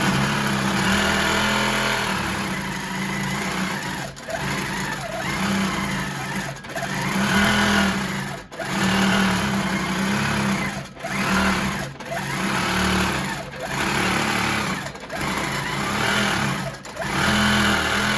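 Longarm quilting machine stitching with a couching foot: a loud, continuous mechanical whir and rapid needle drone, close up, that surges and dips as the machine moves, with brief pauses and no talking.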